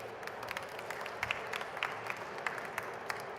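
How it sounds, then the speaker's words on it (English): An audience at a tech conference gives a round of applause, a dense patter of many hands clapping steadily at moderate volume in a large hall. "if I could do a round of applause for SPs, this is where I would do it"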